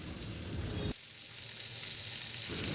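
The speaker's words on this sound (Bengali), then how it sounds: "তো সবগুলো যখন খুব ভালো করে ভাজা হবে তখন খুব সুন্দর করে উঠে আসবে।" Dried chepa shutki fish patties wrapped in bottle gourd leaves sizzle steadily in hot oil, with a quieter stretch midway before the frying hiss swells again; no voices.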